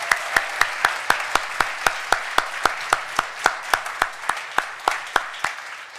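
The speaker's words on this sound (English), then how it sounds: "So let's have one more big round of applause for all of our awardees." Convocation audience applauding awardees at an honors ceremony, with a steady beat of sharp, evenly spaced claps standing out over a softer wash of clapping from the wider room, continuous and without voices.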